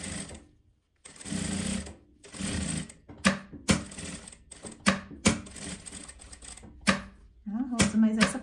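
A sewing machine stitches small fabric scraps in several separate runs of rapid, even clatter, split by pauses, clicks and handling noises, with someone talking in between.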